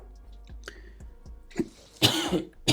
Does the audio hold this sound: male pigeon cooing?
no